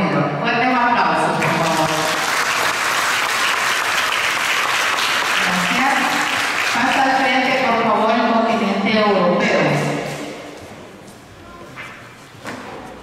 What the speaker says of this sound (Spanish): Fuerte un aplauso.